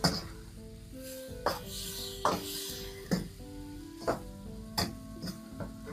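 Beef in black bean sauce is stirred in a wok, a metal utensil scraping and rasping against the pan in a steady series of strokes, about one every second, over a soft sizzle.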